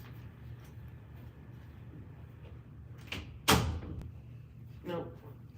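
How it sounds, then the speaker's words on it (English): A door swings shut with a sharp thump in a quiet home, preceded by faint shuffling and followed by a softer knock, with low room hum underneath. "Let me close my door"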